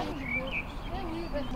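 Birds singing outdoors in the Vercors mountains, several thin chirps and short whistled notes scattered across a brief stretch over a low background rumble.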